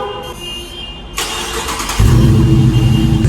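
A Dodge Challenger R/T engine cranks and fires up on a warm start, settling into a loud, close, deep rumbling idle.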